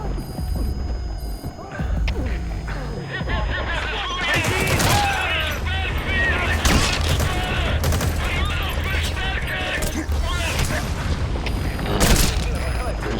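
Rapid bursts of video game gunfire with booming impacts crackle through a busy firefight, mixed with a person talking.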